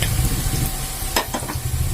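Spice powders sizzle in hot oil for a homemade mango pickle, a steady close frying crackle with stirring scrapes and a few brighter clatters midway, no talking.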